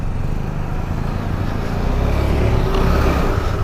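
A KTM Duke 390 motorcycle strains up a slope with its rear wheel skidding, its engine a loud, close, steady drone that swells slightly toward the end.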